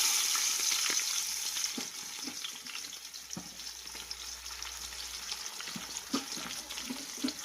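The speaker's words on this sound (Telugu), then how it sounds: "అవి అయితే బాగా ఫ్రై అవుతూ ఉన్నాయి కదా. దాంట్లోనే ఉల్లిపాయలు కూడా వేసేస్తున్నాము." Onions and green chillies frying in oil for a mutton curry, a continuous crackling sizzle with occasional stirring knocks, close and fairly loud.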